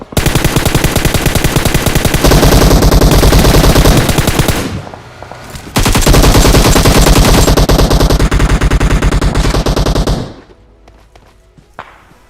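Rapid bursts of automatic gunfire from a video game, two long loud volleys separated by a short pause, then quiet with a stray shot.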